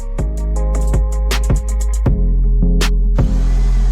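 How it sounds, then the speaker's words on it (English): A power drill whines steadily up close, its motor pulsing with repeated bursts of grinding and cutting noise as it bores a hole into a metal bolt. "By drilling a hole into this bolt"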